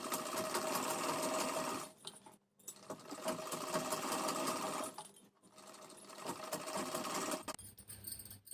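A sewing machine runs fast, stitching a seam on a halter neck maxi dress. It whirs in steady loud bursts with short pauses between runs, and nobody speaks.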